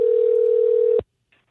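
During an outgoing phone call, a single steady electronic ringback tone sounds for about a second, then cuts off abruptly into near silence.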